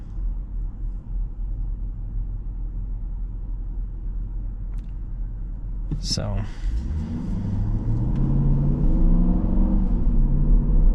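A 2026 Dodge Durango GT V8 or 2026 Ford Explorer ST turbo V6 engine rumbles steadily inside the cabin, then rises in pitch as it revs up, with a brief spoken word and a sharp click midway.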